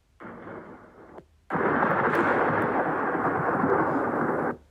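Thunder in a storm scene of an audiobook: a short rumble breaks off, then a loud, sustained roll of thunder roars for about three seconds before cutting out, with no voice over it.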